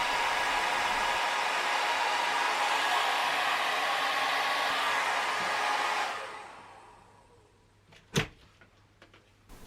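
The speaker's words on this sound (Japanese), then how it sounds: "濡らしてから軽くドライヤーをします" A Create Ion hair dryer blowing on damp bangs, a steady close whooshing drone that runs for about six seconds and then cuts off, followed by a soft thud and a few faint handling noises.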